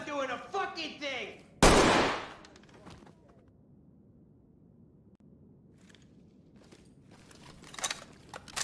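A single loud gunshot in the tactical shooter Ready Or Not cracks out close and sharp after a burst of talk, followed by a quiet stretch with faint shuffling and movement.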